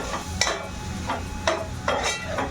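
Masala for mutton biryani is stirred in a pot, with a spoon scraping and clinking against the metal in about five distinct strokes over a quiet background sizzle.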